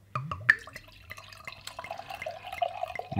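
Beer, a barrel-aged Tropical Brett IPA, is poured aggressively from a 750 ml bottle into a glass, heard up close as splashing, dripping liquid with sharp glugs that settles into a steady bubbling stream.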